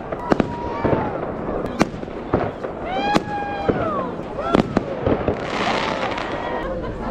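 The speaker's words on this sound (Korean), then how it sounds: "작은 도시다 보니까 폭죽은 저걸로 끝인가 봐요." New Year's fireworks go off over Murmansk, Russia, in a series of sharp cracks and bangs with whistling rising streaks, while a crowd murmurs and voices talk nearby.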